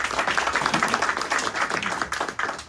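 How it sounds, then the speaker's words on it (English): Applause rises between presenters at a chamber of commerce press conference, a moderate burst of many hands clapping with an uneven, rippling rhythm that lasts a few seconds. "I like the applause in between each presenter"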